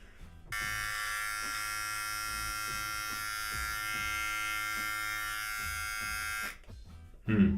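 A low-cost electric beard trimmer with a graded attachment switches on and buzzes in a steady, close, high-pitched drone for about six seconds, then cuts off. A voice follows briefly at the end.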